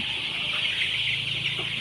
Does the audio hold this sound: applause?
no